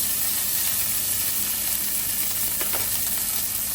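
Steady, loud sizzle of food searing in a hot pan under a press, a continuous hiss with no pauses.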